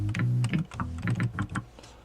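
Buttons pressed on a Teenage Engineering EP-133 K.O.II sampler give a quick run of sharp, close clicks, with low sustained synth tones sounding under them.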